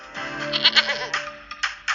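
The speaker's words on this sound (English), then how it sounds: "the Netflix audio logo almost included the sound of a goat" A goat bleats in a few loud, wavering calls over about two seconds, each one nasal and close, with short gaps between them and no voices.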